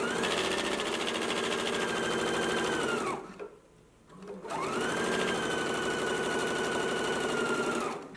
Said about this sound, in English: we're going to go to the sewing machine, and you want to back stitch at the beginning and the end